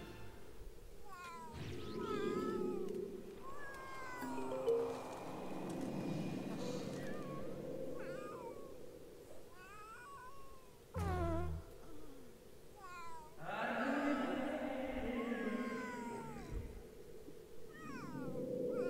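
A cat meows repeatedly in the Sims 3 life-simulation game, a series of plaintive, rising-and-falling cries spread across the stretch, heard over a steady soft game music background.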